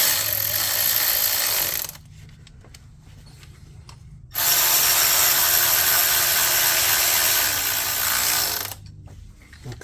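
A ratchet wrench whirs in two long bursts, close and loud, as the oil filter housing bolts are tightened on a 2009 BMW 328i with an N52 engine, with a quiet pause between the runs.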